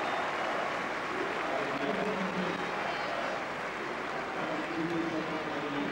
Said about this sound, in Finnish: Saa ansaitusti tamperelaisyleisöltä aplodit.